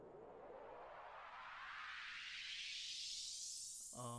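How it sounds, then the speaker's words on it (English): Riser sound effect in an African woro beat with ogene, a noisy swell sweeping steadily upward in pitch and building over about four seconds, ending as a drum hit lands at the close. "So there is this riser I used."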